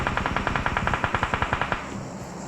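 Rapid automatic gunfire rattles out in a steady burst of about twenty sharp shots, then stops, during a firefight at a gas station in PUBG Mobile, close and loud with no talking.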